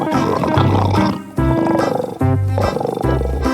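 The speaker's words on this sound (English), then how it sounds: "L for lion." A lion roars loudly and close in a series of deep, rumbling calls, several bursts in a row with short breaks between them, with no talk over it.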